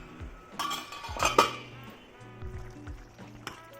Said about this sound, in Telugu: మళ్ళీ క్యాప్ పెట్టేసుకొని మగ్గనిద్దాం